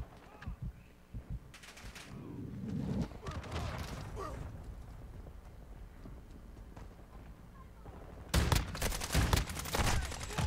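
Gunfire in Modern Warfare 2 comes as bursts of shots, with a scattered cluster early on and a louder, dense volley near the end, over steady game noise.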